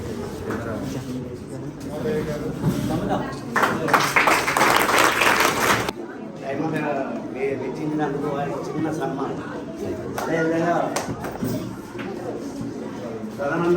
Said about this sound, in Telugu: ఈ కార్యక్రమం ఆద్యంతం ఆసక్తిగా విద్యార్థుల చప్పట్లతోటి మారిపోయింది.